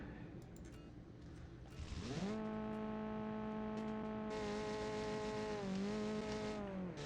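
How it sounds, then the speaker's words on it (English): A car in a racing video game spins its tires off the start line with stability control switched off. The engine climbs to a loud, sustained rev, then dips briefly and rises again. No one speaks. "Oh, a lot of wheel spinning off the line"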